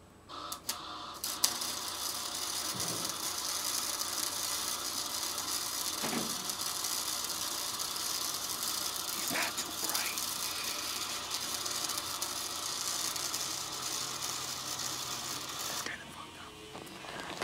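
Arc welding gives off a steady, close crackling hiss that runs almost without a break for about fifteen seconds and then cuts off. Faint voices sit in the background.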